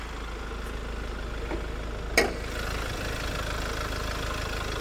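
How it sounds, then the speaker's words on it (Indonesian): A 2200 cc turbo diesel engine idles steadily with a low, even rumble, heard close by, with a brief click partway through. "ini mesinnya Santa Fe sebetulnya 2200 cc turbo diesel"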